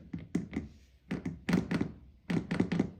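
An Otterbox-cased phone is set down on a hard surface again and again, giving several close, dull thunks and knocks in quick clusters with short pauses between, and no talking.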